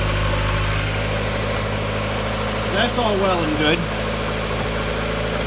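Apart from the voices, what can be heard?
1994 Mazda Miata engine idling cold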